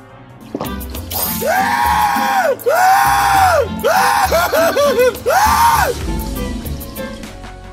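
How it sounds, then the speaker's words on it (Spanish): A video game character lets out screams of terror triggered by a potion effect, several loud drawn-out cries in a row with short breaks between them, over a background of game sounds. "el efecto será que se escuchará como que nuestro personaje suelta un grito de terror"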